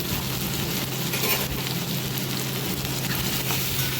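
Spices, including turmeric and chilli powder, fry and are stirred in a pan for Bengali motor ghugni. The result is a constant, close crackling sizzle with a faint low hum beneath.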